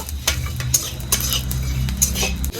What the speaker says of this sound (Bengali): এগুলো আবার একটু ভেজে নেব কড়ার মধ্যে ছেড়ে দেবো হালকা ভেজে নেব